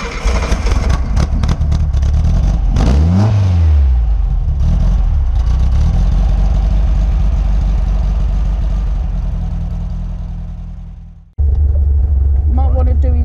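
A Porsche 356 racer's engine revs up and falls back, then winds down to near silence and fires up again into a steady idle, with a rumbling tone.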